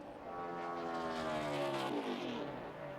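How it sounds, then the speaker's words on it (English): NASCAR Nationwide Series race car engine at Texas Motor Speedway during qualifying, a loud sustained roar with rising and falling harmonic whine as the car runs at speed, close and continuous without speech. "Shuts the engine off as he crosses the start-finish line."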